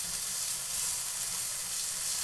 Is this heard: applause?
no